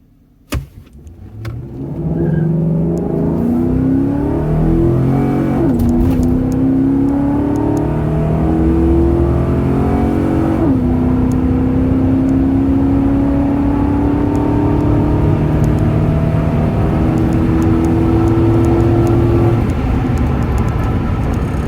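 A Chevrolet Silverado fitted with a cold air intake revs hard at launch, engine note sweeping up through the gears loud and close, with a rising whine after a brief quiet start.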